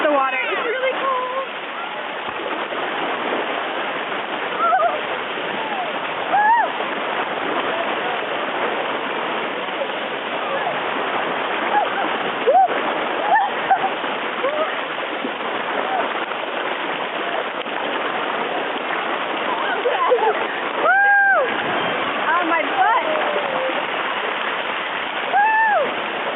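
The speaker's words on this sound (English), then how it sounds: "We are going down the water slide, and yes, the water is really cold." Cold water rushes and splashes over a natural rock water slide on a river in a state park, a continuous broadband roar. Voices call out and shout over the water at times.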